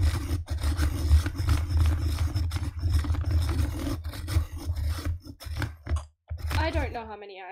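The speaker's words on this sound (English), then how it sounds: "I'm here to sharpen them!" Pencils being sharpened with a sharpener, a steady grinding rasp with rhythmic rubbing strokes that continues near and fairly loud, briefly dropping out before a voice is heard at the end.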